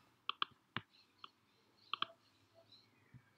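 Quiet, close computer mouse clicks on a Mac, a handful of sharp taps, some in quick pairs, scattered irregularly over a few seconds with no voice.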